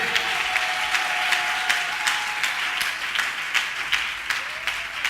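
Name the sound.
congregation applauding loudly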